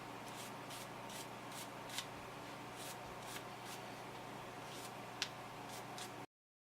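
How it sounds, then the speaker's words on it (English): A small brush scrubs the narrow crevice beside a MacBook trackpad, producing faint, steady rhythmic scratchy strokes heard very close in a quiet room. "Just kind of want to scrub that out."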